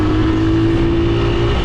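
Honda XR80 dirt bike engine running steadily at a constant idle-to-mid rev, a loud continuous buzzing drone with no talk over it.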